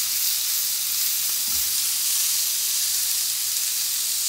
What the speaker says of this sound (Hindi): अब इसको ज़रा फ्राई करके ना इसका कच्चापन जो है ना वो ख़त्म करेंगे